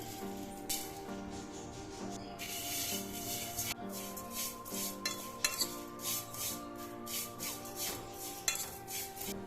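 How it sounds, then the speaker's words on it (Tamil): Dry vermicelli is stirred in a pan while roasting, with steady scraping and rustling strokes of a utensil against the metal in a repeated rhythm, close and moderately loud, no voices. "வறுத்த சேமியானாலும் நீங்கள் ஒரு தடவை ஒரு 2 நிமிஷம் அளவே வறுத்து எடுத்துக்கோங்க."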